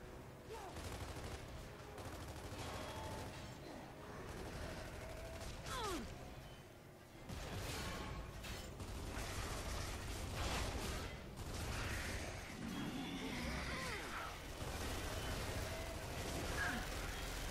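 Gunfire in Gears of War 3 as hooks are shot off: dense, continuous bursts of rapid shots and mechanical clatter, loud and unbroken throughout, with occasional whooshes layered in.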